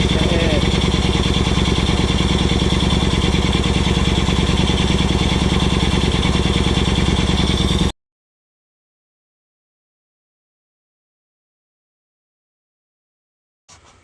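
Victory motorcycle V-twin from 2006 idling with a failed intake manifold and throttle body boot sucking in extra air, a loud steady close-up idle for about eight seconds, then silence before a brief burst at the end.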